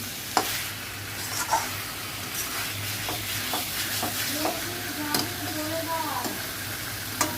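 Chicken with green chillies sizzles steadily in hot oil in a pan while being stirred, with occasional spoon scrapes and clinks over the continuous frying hiss.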